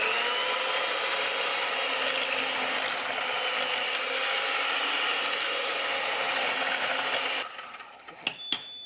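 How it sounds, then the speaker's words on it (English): Electric mixer shredding six-hour slow-cooked chicken, a steady loud whirring grind that runs nearly unbroken for over seven seconds, then cuts off, leaving a few faint clicks and clatters. "using the mixer to shred the chicken"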